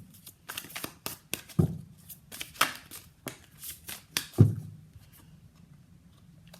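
Tarot cards are shuffled and drawn by hand, soft riffling and flicking sounds in short bursts with a few sharper snaps, close and quiet with no talking.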